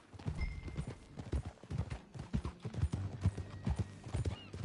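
Horse hooves clip-clop at a relaxed walking pace in Red Dead Redemption 2, close and clear, with a low background hum and no voices.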